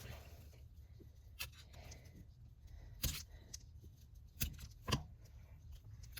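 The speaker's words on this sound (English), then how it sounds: "I'm going to cut these up." Soft polymer clay blocks cut up for a color blend while making roses; quiet close handling with a few sharp clicks and taps of the cutting tool against the work surface over a low background hum.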